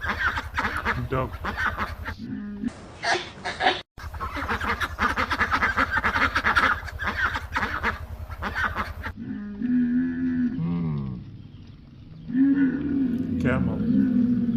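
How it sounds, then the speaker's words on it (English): After a long stretch of loud, rough wild-animal roaring, a duck gives a few nasal quacks near the end, close and moderately loud. "Duck."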